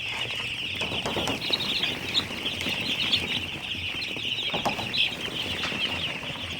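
Young broiler chicks in a poultry shed keep up a dense, continuous high-pitched peeping chorus, close and steady, with occasional scuffles and flutters.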